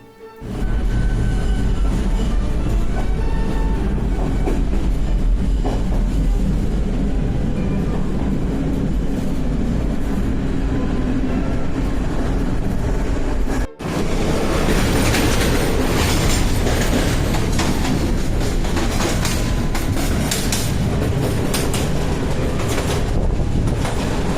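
Continuous loud rumble of a train ride to Budapest, steady rail roar and clickety-clack with wheel squeal, a brief dip partway through before the rolling noise resumes.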